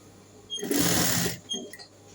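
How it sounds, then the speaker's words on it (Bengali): A sewing machine stitches a half-inch side seam on baby frock fabric, making one loud, close whirring burst of under a second, followed by a shorter, fainter run. "এরকম করে কিন্তু সাইড দিয়ে 1/2 ইঞ্চিতে সেলাইটা করে নিতে হবে।"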